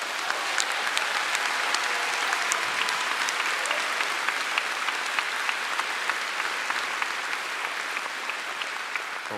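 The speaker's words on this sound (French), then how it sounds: "Bon, c'est très bien, je vois que vous applaudissez," An audience applauds at a conference in Lille, a sustained, dense roar of many hands clapping with scattered sharper claps standing out, steady and loud for the whole stretch.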